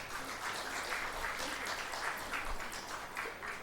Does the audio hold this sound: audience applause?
yes